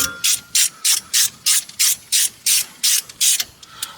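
Close ratchet clicks come in a steady run of short bursts, about a dozen even strokes, as bolts are driven into an aluminum differential cover with no talking.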